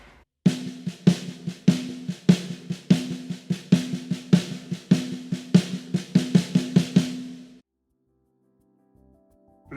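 A drum kit plays a two-bar sixteenth-note accent groove from a lesson, with bright cymbal strikes over thumping kick and snare in a steady pulse for about seven seconds before falling silent.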